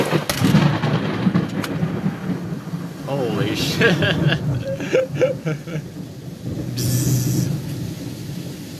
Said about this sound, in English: that's why you don't go out in thunderstorms or rain like this